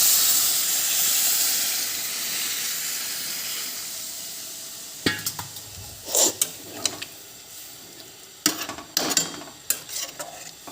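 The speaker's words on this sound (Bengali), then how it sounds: "এবার দিয়ে দেবো জল।" Hot pan of pumpkin, potato and soybean curry with sharp hissing sizzle bursts as water is poured in, loud spitting peaks over a steady steamy frying hiss, close by.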